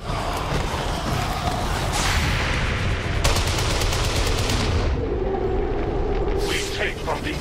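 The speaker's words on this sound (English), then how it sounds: "The shockwave of that explosion reverberated throughout most of the city." Dense, loud gunfire and explosions from the video game XCOM 2, with rapid automatic bursts and booming blasts in continuous chaotic combat, a voice speaking under the din.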